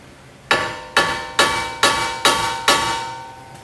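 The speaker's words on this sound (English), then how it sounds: "So we're going to try to hit it a couple times." Six loud metallic hammer blows at an even pace, each ringing briefly, striking a bent front steering knuckle on a 2006–2009 Honda CR-V to straighten it.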